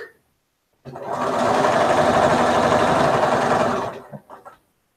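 A sewing machine running steadily while stitching a quilt seam, a close, loud continuous whir for about three seconds that then slows and stops, with brief quiet handling sounds before and after.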